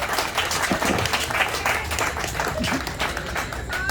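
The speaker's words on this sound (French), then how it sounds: "Vous pouvez applaudir, hein," Audience applause fills a conference hall on geothermal energy exploitation, a steady dense wash of clapping from many hands, close and loud, holding evenly throughout without clear speech over it.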